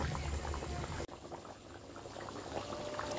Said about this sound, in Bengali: এই যে টকবক করে ফুটছে